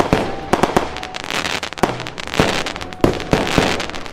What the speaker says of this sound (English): I hear fireworks, but I cannot hear you.